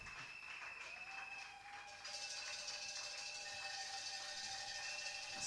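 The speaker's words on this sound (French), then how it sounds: "Acclamons pour eux pendant qu'ils vont s'asseoir." Audience applause at the official launch of an album as honorary members take their seats, a steady wash of clapping that swells louder after a couple of seconds, with sustained tonal music underneath.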